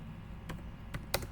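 A few quiet clicks of keys on a computer keyboard, spaced unevenly in a hushed room.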